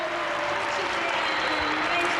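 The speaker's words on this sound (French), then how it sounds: "Très applaudi, Marius Daniel Ursika," An arena audience at the 2004 Glasgow Grand Prix of artistic gymnastics applauds Romanian gymnast Marius Daniel Ursika with sustained, even applause, a dense hiss of many hands that stays steady throughout, with a faint commentator's voice underneath.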